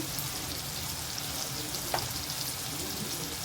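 Ground turmeric, red chilli powder and homemade garam masala sizzle in hot oil with softened onion, a steady close frying hiss with a brief stir clink partway through.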